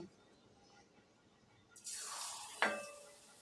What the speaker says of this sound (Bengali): তেল একটু বেশি দিয়ে দিয়েছি একদম ডোবা তেলে ভাজা হবে